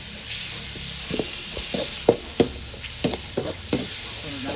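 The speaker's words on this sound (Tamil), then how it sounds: "நல்ல ஒரு ப்ரௌன் ஷேப் வர வரைக்கும் நல்லா வதக்கணும்" Onion masala sautéing in a pan over a wood stove: a soft continuous sizzle with uneven scraping strokes of a ladle, close by and moderately quiet, no voices.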